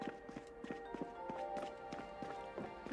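Horse hooves clip-clopping at a steady, quick trot in the Project Zomboid video game, about ten evenly spaced hoofbeats with no talking over them, against a droning in-game background hum.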